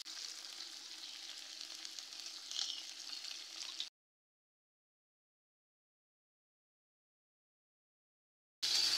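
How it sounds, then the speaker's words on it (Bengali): Potatoes and radish fry in a pan with salt and turmeric for a rohu fish curry with radish, beans and bori, giving a steady close sizzle for about four seconds, then silence before the sizzle briefly returns. "আলু আর মূলোটা বেশ ভাজা হয়ে গেছে।"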